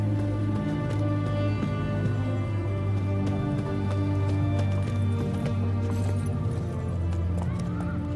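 Roach, the horse in The Witcher 3 video game, gallops with quick rhythmic hoofbeats and snorts over a sustained musical drone, with a faint voice in the mix.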